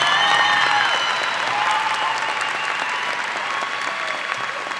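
Sustained applause from a large graduation ceremony audience honoring award recipients, dense and steady throughout, with a whistle or cheer rising near the start.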